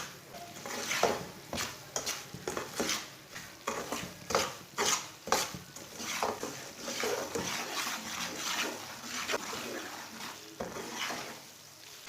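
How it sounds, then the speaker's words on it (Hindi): A spoon stirs semolina being roasted over low heat in a pan for halwa, making continuous close scraping and rubbing strokes against the metal with faint sizzling, in an uneven rhythm throughout. "ऐसे ही चम्मच चलाते हुए इसे हल्का सा ब्राउन करना।"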